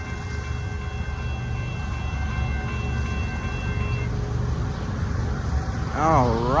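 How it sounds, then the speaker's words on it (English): A Kansas City Southern ES44AC diesel locomotive, number 4733, rumbles steadily past at close range with a continuous low roar and wheel noise, swelling louder at the end. "you is a Kansas City Southern locomotive, number 4733, ES44AC."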